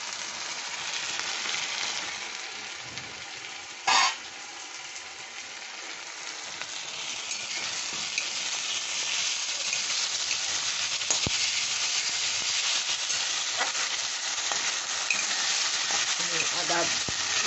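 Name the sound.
ginger garlic paste frying in oil with salt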